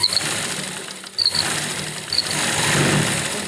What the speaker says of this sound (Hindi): तो अब हम इसकी सिलाई करते हैं।